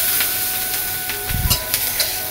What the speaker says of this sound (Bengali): রসুনটা যে শুটকি মাছের তেলে দিয়ে দিলাম